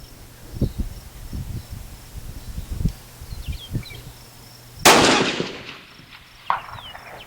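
A single sharp rifle shot from a Tikka .223 varmint rifle with 1-in-8 twist firing 55-grain Blitz King bullets, cracking loudly mid-clip over constant crickets and insects outdoors, with a fainter secondary report trailing after.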